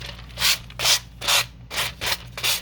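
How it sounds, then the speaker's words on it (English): Six rhythmic strokes of a sanding block rubbing the edge of a tag made from a playing card, each a short scratchy swish with brief pauses between. "I love to use my sanding block"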